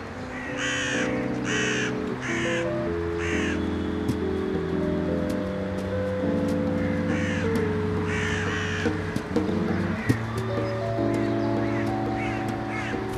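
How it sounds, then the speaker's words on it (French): Crows from a Paris park colony that scavenges fast-food scraps, cawing in repeated harsh bursts, several birds close by, over a steady low rumble and background noise. "niche une colonie de corneilles qui a appris à se spécialiser dans la récupération des restes de fast-food abandonnés par les visiteurs du parc"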